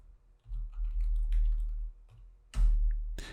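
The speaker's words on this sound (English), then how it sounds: "I'm typing the name of the range right here in the name box" Computer keyboard typing in two bursts, a quick run of soft clicks followed by a short pause and a sharper cluster of keystrokes, close by and quiet with no talk over it.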